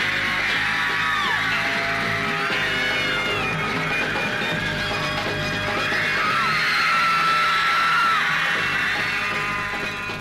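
A huge crowd of New York fans screams and yells for the Beatles' arrival, a loud, unbroken wall of high-pitched shrieks and whoops that holds steady throughout.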